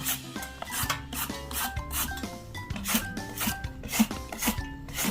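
Potatoes rasp against a grater in a kitchen, a rhythmic series of close scraping strokes about twice per second, moderately quiet with no voices.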